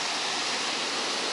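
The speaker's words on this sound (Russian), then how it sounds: "уходящий берег океана, длинные раскатистые волны" Ocean surf rolling onto a sandy beach backed by dunes and a low cliff on a hazy day, a steady, continuous broadband wash of breaking waves heard close and fairly loud, with no voices.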